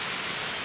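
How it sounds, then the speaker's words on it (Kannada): Steady rushing of Jari Falls in the Chikmagalur forest, an even broadband wash of flowing water, close and unbroken, with no other sounds. "ನೀರು ಸೌಂಡ್ ಬಿಟ್ಟರೆ ಏನೂ ಇಲ್ಲ"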